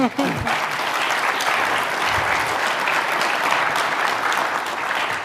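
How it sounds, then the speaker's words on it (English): A conference audience at a Canadian Club energy forum breaks into steady, dense applause that fills the whole stretch, loud and close with a brief dip near the start. "Can we get a warm round of applause?"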